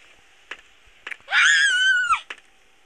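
A character in the Mr. Meat horror video game lets out one loud, drawn-out scream lasting under a second, framed by brief clicks and thumps over a faint steady hum.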